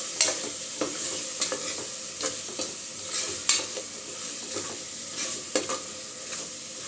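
Chicken biryani mixture being stirred in a pot while it fries, with a steady sizzle under repeated scraping strokes of a spoon against the pot, close and moderately loud, no talking.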